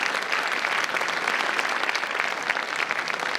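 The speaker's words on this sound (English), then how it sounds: "A nice round of applause for our foreign language" Steady, dense applause from a school audience at a high school academic honor society induction, loud and continuous throughout as foreign language inductees are honored.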